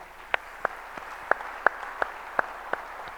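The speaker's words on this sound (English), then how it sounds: "Give them a round of applause" Sparse, evenly spaced claps from a small audience at a fundraising event ring out sharply over a quiet room, about eight distinct hits in a few seconds.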